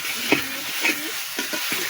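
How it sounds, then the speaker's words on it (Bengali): Fried potatoes sautéed with spice paste for aloo dum, heard as soft sizzling under a few scraping stirs of a spoon in the pan, fairly quiet and close, with no voices. "আলুগুলো মশলার সঙ্গে একটু কষিয়ে নেব।"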